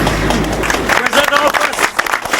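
An audience applauds at a local event, dense clapping filling the space briefly beneath and around a person speaking.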